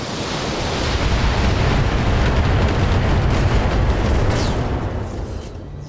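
A Battletech mech blows up in urban combat, a loud, sustained roaring explosion with rumbling low end that swells in the first second, holds, then fades away toward the end.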